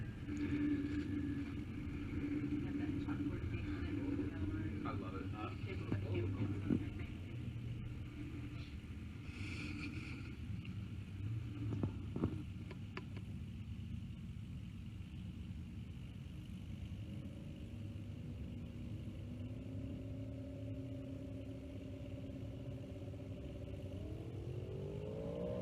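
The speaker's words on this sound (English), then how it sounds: "Look at the Chevelle motoring down there." 1967 Chevrolet Chevelle drag car with a wheelie bar and big rear tires at a drag strip, a distant engine rumble that rises in pitch as it accelerates, with commentary over it.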